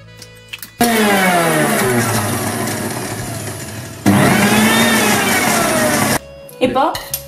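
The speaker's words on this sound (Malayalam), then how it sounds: "ആദ്യം തന്നെ നമുക്ക് ഇഞ്ചിയും വെളുത്തുള്ളിയും പച്ചമുളകും സവോളയും ഒന്ന് ചതച്ചെടുക്കണം" An electric mixer grinder coarsely crushes ginger, garlic, green chilies and onion for Thalassery-style chicken biryani, whirring loudly in two long bursts with a short break between them, with faint clicks and handling noises before and after.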